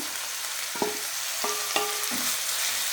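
Onions fry in a pan for a prawn fry as tomato goes in, a continuous close sizzle broken by a few soft stirring knocks and scrapes.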